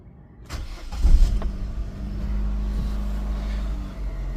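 An old Vauxhall Zafira engine cranks briefly and catches, then settles into a steady, rumbling idle heard close up, with no talk.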